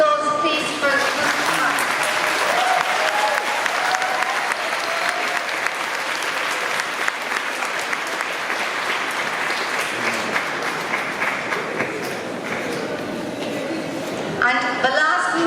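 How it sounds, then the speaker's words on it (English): Sustained applause from an audience at a school certification ceremony for a group of students, steady dense clapping that carries on for a long stretch before tapering off, with a voice speaking briefly at the very end. "So a round of applause please for the group."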